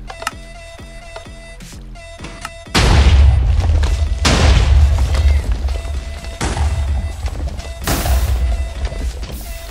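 Minecraft hybrid cannons fire in a rapid series of heavy booms after a stretch of quieter mechanical clicking, loud and close, with crashing impacts.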